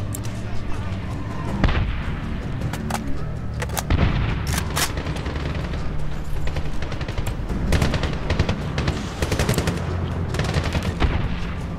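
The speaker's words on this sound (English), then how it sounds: "No, I'm just gonna throw grenades." Dense, continuous gunfire with repeated explosive booms from grenades in the Medal of Honor video game, a loud, busy combat mix running throughout with bursts and blasts layered over one another.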